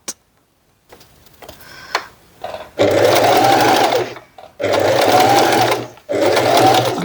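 A sewing machine stitches back and forth along a tote bag seam in two long, loud, steady runs separated by a short pause, with some quieter handling noises at the start.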